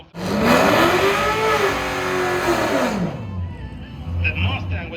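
A Chevrolet Camaro drag car accelerates hard down a drag strip, its engine revving loud and rising in pitch before shifting and fading as it pulls away, with a crowd and an announcer audible behind it.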